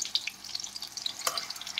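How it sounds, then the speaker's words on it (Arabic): Beef slices for piccata frying in a pan of butter and oil give a steady, close crackling sizzle with small pops, and no one speaks. "دلوقتي هنزل بشرايح اللحمه بتاعتي"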